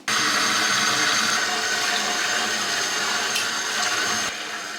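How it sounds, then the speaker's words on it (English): Water gushes into a kitchen sink where radishes are being washed, a loud, steady close splashing rush that eases slightly near the end, with no speech. "So I'm gonna throw these all in this and we're gonna give it a wash."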